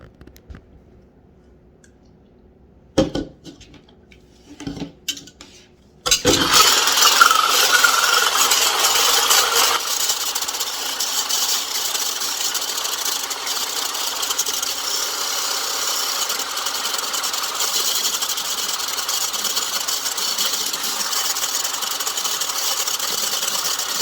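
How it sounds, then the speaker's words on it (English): Instant coffee and a few teaspoons of boiling water are whisked to a foam: after some light taps and knocks, a loud, steady whirring buzz starts and runs continuously at close range. "you just take a few teaspoons of boiling water and you whisk it"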